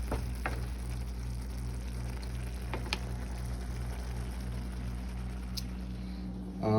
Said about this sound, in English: Just letting it simmer.